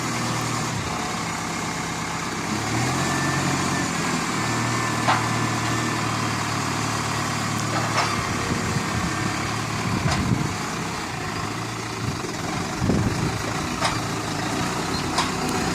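A Neoland tractor works a beet field, its engine running steadily at moderate distance beneath broad outdoor noise, with occasional knocks and clatter from the machinery.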